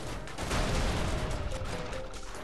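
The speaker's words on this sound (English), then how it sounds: "Big explosions." Dense rumbling explosions and crashing blasts in the video game Goat Simulator roll together in a loud, continuous barrage with no clear gaps.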